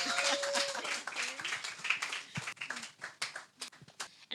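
Small audience clapping at a poetry event in a bookshop, a modest patter of hands that thins into scattered individual claps toward the end, with some murmuring underneath.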